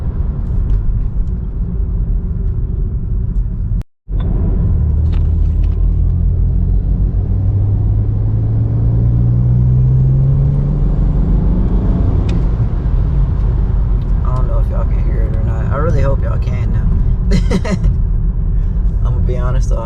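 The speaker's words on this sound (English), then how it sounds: "Like in real life the car sounds way better than it does on camera." BMW 335i E90 or Mustang GT engine rumbling low with a rising rev swell in the middle, heard under talk with a brief dropout near the start.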